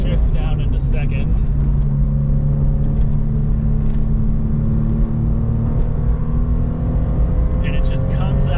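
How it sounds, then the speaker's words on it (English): A Porsche 996 drives in third gear on a short straightaway near 4,000 RPM, its exhaust note a loud, steady, droning engine hum with a few faint knocks, while someone talks over it. "You can hear that exhaust note."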